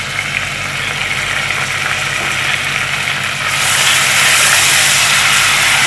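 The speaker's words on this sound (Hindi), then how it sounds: "अब देखें, ये प्याज फ्राई हो गई है, अब मैं इसमें लहसुन अदरक का पेस्ट डाल देंगे।" Garlic ginger paste sizzling in hot fried onions, a steady broadband hiss that swells louder partway through as the paste hits the oil, with a low hum underneath and no talk.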